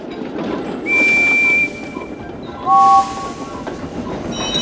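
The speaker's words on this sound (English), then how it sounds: "Is that whistle the same as yours, Percy?" Percy's steam engine whistle from the Thomas & Friends video game gives two short, loud toots about two seconds apart, the second one higher and shorter, over a faint rolling background.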